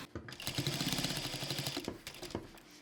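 Sewing machine stitching a cloth shopping bag, a quick rapid run of close, even needle strokes that stops, then a few short separate stitches, heard alone and near.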